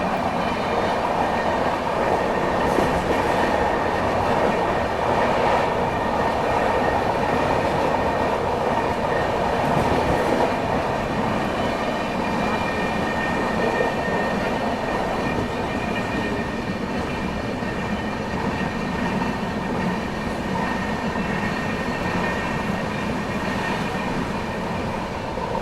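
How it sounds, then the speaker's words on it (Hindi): Nagpur Pune Humsafar Express train running on rails in India: a steady, loud, continuous roar of wheels on track with faint rhythmic clatter, heard close by for the whole stretch without any talking. "नागपुर पुणे हमसफर एक्सप्रेस।"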